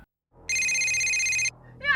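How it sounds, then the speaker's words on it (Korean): A telephone rings in a scene from the Terrifier horror film: one bright, sustained electronic ring that stops abruptly, followed by the start of a voice. "이어 전화 한 통이 걸려오는데"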